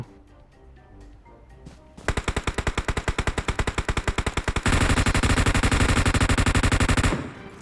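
Sustained automatic gunfire in PUBG Mobile, loud and close: a rapid, evenly spaced burst of shots gives way to a denser, heavier stream of fire that runs several seconds before cutting off.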